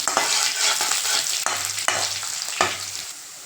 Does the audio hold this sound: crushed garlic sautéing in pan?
yes